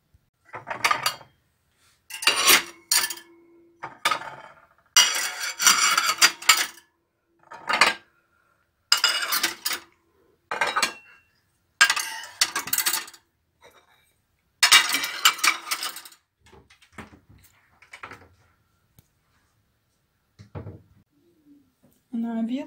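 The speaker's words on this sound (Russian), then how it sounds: "Сейчас все разгружу и буду закладывать новое все. Новую грязную посуду." Dishes and cutlery clink and clatter in repeated bursts as items are lifted and set down, with brief pauses between handfuls, close by in a kitchen.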